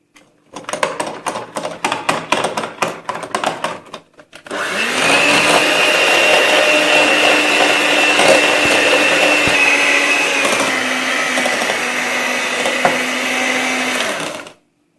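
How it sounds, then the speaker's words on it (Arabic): An electric hand mixer whips whipped-cream powder with milk, starting with choppy rattling bursts before settling into a loud, steady whirring drone that runs for about ten seconds, then stops abruptly. "كنضيف عليها هاد الحليب وغادي نطربها مزيان بالطرب الكهربائي حتى كتماسك"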